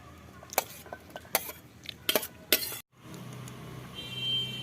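Boiled, chopped potatoes going into a bowl for papri chaat, with a run of sharp clinks and clatters of utensils against the dish, then a pause and a softer low rustle of mixing.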